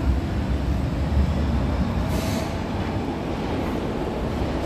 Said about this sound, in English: And so this is the BART train.